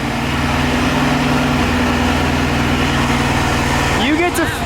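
A Mazda Miata with a loud aftermarket exhaust idles up on a lift, a deep, steady droning rumble that fills the space, with a short sweeping rev near the end.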